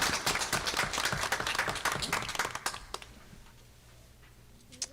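An audience at a Board of Education meeting applauds. Dense, loud clapping fills the room for a few seconds, then thins out and fades to scattered claps.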